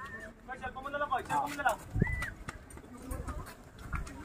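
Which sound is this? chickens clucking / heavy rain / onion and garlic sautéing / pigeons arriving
pigeons arriving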